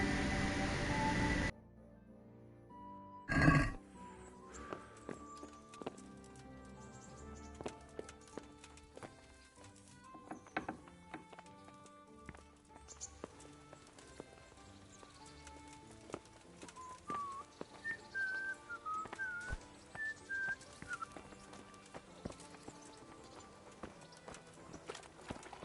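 Horses in a medieval video game clip-clop steadily on hooves, a soft rhythmic walking beat under game music and ambience, with a few faint neighs and birdsong here and there.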